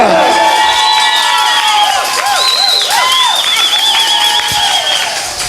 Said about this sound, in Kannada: ಚಪ್ಪಾಳೆ ತಟ್ಟಿದೆ ಅವರಿಗೆ